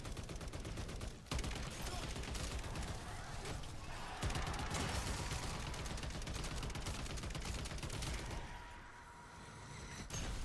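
Rapid, sustained gunfire from a weapon with effectively unlimited ammo in MW3 Zombies, a dense continuous burst of shots dropping off briefly near the end, loud and close with game sound mixed in.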